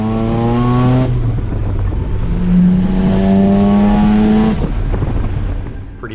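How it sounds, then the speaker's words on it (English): Turbocharged 1993 Mazda RX-7 FD rotary with a twin-turbo smart wastegate setup revving hard nearby, two strong climbing pulls with a loud rowdy note and an abrupt drop between them as the external wastegate dumps. "It's running a dual turbo smart wastegate setup with an external dump once boost spools up"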